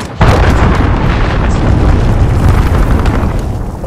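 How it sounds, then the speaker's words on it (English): A cruise missile strike in the video game Call of Duty: Modern Warfare, a sudden very loud explosion that becomes a heavy, sustained rumbling roar for several seconds. "light cruise missile away."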